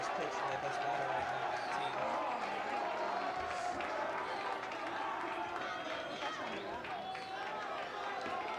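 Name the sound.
baseball crowd cheering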